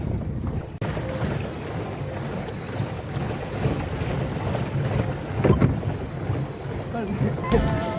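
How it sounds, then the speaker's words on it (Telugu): A boat moves across a lake in a park, with steady wind and water noise, engine-like rumble and occasional splashes throughout; voices can be heard faintly in the background. "పడవ తొక్కడానికి వచ్చాం గాయ్స్"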